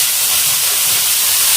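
Chopped red shallots dropped into hot oil with a dried chilli, giving a loud, steady, broad sizzling hiss throughout, close up with no talking.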